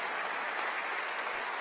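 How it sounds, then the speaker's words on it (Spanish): A church congregation claps together in steady, unbroken applause that holds at an even level from start to finish and is heard at a moderate distance. "Démosle palmas al Señor, hermano, porque eso es hermoso."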